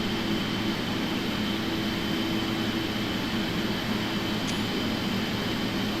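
Steady roar of a PMDG Boeing 777 airliner engine heard from outside the aircraft in Flight Simulator X, a continuous even drone with a faint higher whine, no talking.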